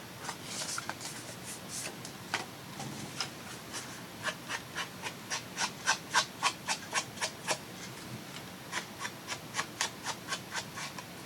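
An ink pad or applicator is dabbed and rubbed along both sides of a paper flap, making a run of quick, crisp scratchy strokes, close and fairly quiet, with no voices.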